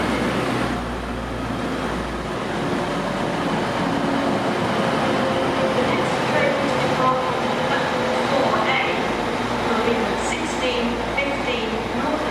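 Train noise fills a platform at Sheffield station, a steady low rumble with a hiss that stays loud the whole way through, and a public-address announcement runs over it.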